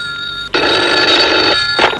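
A telephone bell rings loudly and close, one sustained burst after a brief gap, followed by the start of a second ring.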